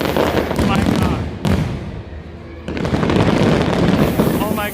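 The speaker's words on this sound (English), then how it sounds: "Fireworks in front of the Millennium Falcon." Fireworks burst over the Millennium Falcon on Galaxy's Edge opening night, loud and close, with rapid crackling pops and booms, a brief lull, then another intense barrage amid a cheering crowd.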